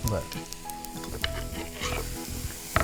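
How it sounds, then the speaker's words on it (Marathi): Pineapple pieces cook in a pan with turmeric and asafoetida for a Maharashtrian vegetable dish, giving a steady, close crackling sizzle with a few sharper pops and no talking. "सर्वप्रथम आपण अननसाच्या फोडी शिजवून घेणार आहोत कारण त्यातल्या त्यात अननस थोडा शिजायला वेळ घेतो"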